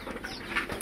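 Lotan and local pigeons, including chicks, in a pigeon house make brief soft cooing and shuffling sounds nearby, with a faint higher chirp mixed in.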